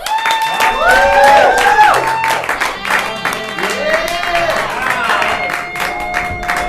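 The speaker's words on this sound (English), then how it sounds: "So let's give them a huge round of applause." A crowd claps and cheers steadily throughout, a dense wash of applause with a voice and music-like tones rising over it.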